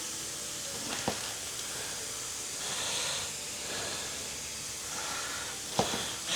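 Vegetables with garlic powder and paprika, soon joined by cabbage, fry gently in a pan, giving a steady soft sizzle and hiss close by with a couple of small pops, and no talk.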